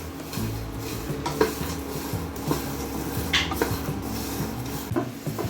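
Roasted chickpeas being heated and stirred in a pan, giving a steady dry rattle and scrape with occasional louder clinks of the spoon against the metal over a low hum.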